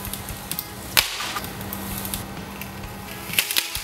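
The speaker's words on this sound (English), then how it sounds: "When the fiberglass pole breaks, it really shatters." A fiberglass pool fence pole snaps and shatters in two sharp, loud cracks about two and a half seconds apart, with a faint splintering rattle between them.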